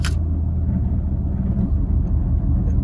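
A Fiat 500 engine running rough while driving, producing a steady, close low rumble and drone that continues unbroken with no voices.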